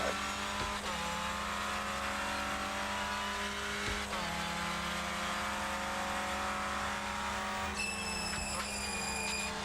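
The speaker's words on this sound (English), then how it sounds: "Brakes screeching at me because they're cold." Clio Cup race car in the iRacing simulator, engine droning steadily throughout with a high brake screech on cold brakes near the end, loud and close.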